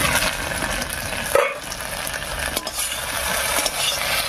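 Tender okra (ladies finger) frying in an uncovered pan after steaming under a lid, with a steady close sizzle broken by spatula stirring scrapes and a brief clatter; no talk.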